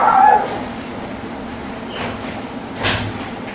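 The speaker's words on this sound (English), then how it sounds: "One of the dogs is barking at something, like it sees an intruder in the home" A dog gives a short yelping bark at the start, then a couple of fainter yips follow over low indoor room noise.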